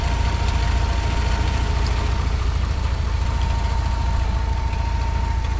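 A 1990 Dodge Power Ram truck with a 3.9 liter V6 idles steadily nearby, a continuous low, even engine rumble with a faint tonal hum and no talking.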